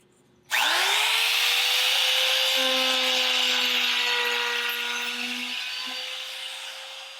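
A power tool, likely a router, shapes a profile along a plywood edge for a shelf. It starts abruptly with a loud, steady high whine that holds for several seconds and eases slightly toward the end.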